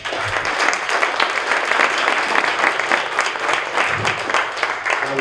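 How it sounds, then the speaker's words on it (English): Steady, dense applause from an audience at a startup pitch night in New York, loud and sustained for the whole stretch with no talking over it. "Let's give him a round of applause."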